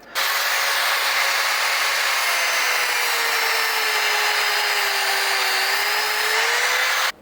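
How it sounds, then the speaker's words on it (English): Cutoff wheel slicing through a stainless steel braided hose, its steel core inside, producing a loud continuous high-pitched whine with a slowly shifting tone for about seven seconds, steady from start to finish with no talking. "The easiest way I know is a cutoff wheel."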